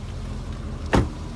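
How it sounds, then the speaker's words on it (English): Pop-up headlights on a 2004 Chevrolet Corvette raise with a brief motor whir and a short clunk, heard close over a quiet background. "Go ahead and show you the pop-up headlights now."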